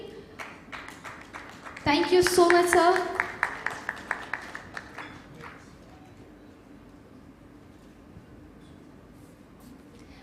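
Applause from the audience at a stroke symposium in a hospital hall: clapping swells briefly, thins into scattered individual claps, then dies away as someone speaks over it.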